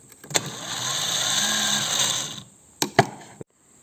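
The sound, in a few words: starter motor cranking Belarus MTZ-52 tractor engine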